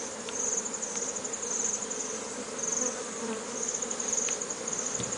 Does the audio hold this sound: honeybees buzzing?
yes